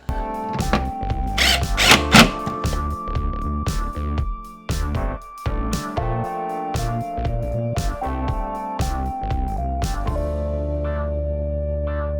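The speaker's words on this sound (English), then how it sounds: "screw it in with a 10mm self tapper" A power drill drives 10mm self-tapping screws into the engine splash cover under a Lexus IS300, its motor whining loudly in several bursts of rising and falling pitch, with short pauses between runs and close, clattering contact.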